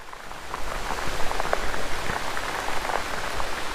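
Heavy rain pours steadily near a waterfall road in Kanyakumari, a dense even hiss of drops hitting surfaces with no voices.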